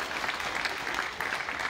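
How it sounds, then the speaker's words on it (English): Crowd at an outdoor Australia Day celebration in Maryborough applauding, a continuous even patter of many hands clapping at moderate distance, no speech over it. "So big round of applause for Alicia and all the council."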